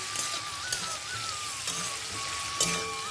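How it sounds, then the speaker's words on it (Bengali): Prawns fry in a pan with a steady sizzle and occasional crackles and stirring knocks, with a thin tonal hum running underneath. "চিংড়ি মাছটা ভাজা হয়ে গেছে"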